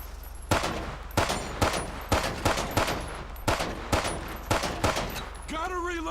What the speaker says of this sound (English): Shoot the brake lights and the headlights